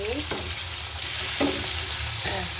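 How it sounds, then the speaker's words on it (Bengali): Rui fish frying in a pan, a steady loud sizzle of hot oil with a few brief scrapes or turns of the pieces, close by and without talking. "আমি একটু মাছ ফ্রাই করে নিচ্ছি"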